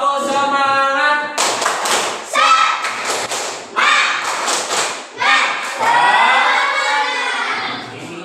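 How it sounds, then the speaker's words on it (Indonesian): Children clap a rhythmic spirit-raising chant in a classroom, bursts of group clapping and shouted voices alternating in short loud phrases, with an adult voice leading between them. "Yuk, tepuk semangat."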